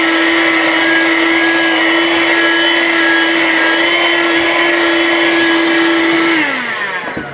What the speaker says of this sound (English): they're horrible to vacuum. So we're gonna do a crevice tool first